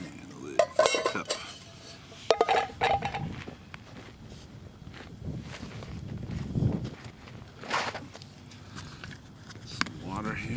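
A camping cup and its lid are taken out of a pack at an outdoor cooking spot in a park, with metallic clinks, knocks and rustling handling noises close by, mixed with a man's speech.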